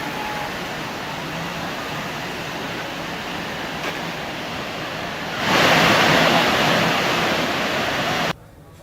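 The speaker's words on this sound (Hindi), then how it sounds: "नदी में बाढ़ आ जाती है" A flooded river runs fast beside a temple and half-submerged shops, a dense continuous roar of water that swells louder partway through before cutting off abruptly.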